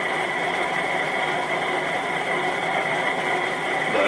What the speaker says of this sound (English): That motor's going.